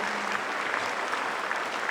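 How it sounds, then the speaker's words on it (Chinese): Warm applause at a Hakka concert honoring all the performers on stage, a steady, full wash of clapping from a large audience, even and sustained across the brief moment. "让我们再一次以热烈的掌声献给台上所有的演出者"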